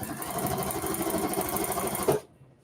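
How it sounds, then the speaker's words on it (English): A sewing machine stitches a 15-inch seam with a loud, steady whirring run that stops abruptly near the end, leaving near silence. "So let's go ahead and sew that seam."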